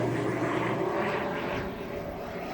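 A propeller airplane drones overhead as a steady, moderately loud engine hum that holds level throughout, outdoors with no speech.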